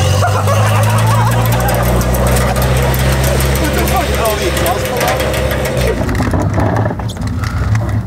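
A Merkur XR4Ti idles in a project garage, a low, steady engine rumble with a deep hum running constantly, then roughening and shifting near the end while nearby noises mix in.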